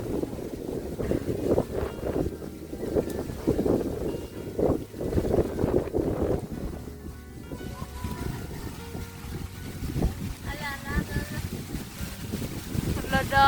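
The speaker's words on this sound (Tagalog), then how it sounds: "Kusog yung hangin" Strong wind outdoors in the rural countryside buffets the microphone in rumbling gusts throughout, while people talk over it.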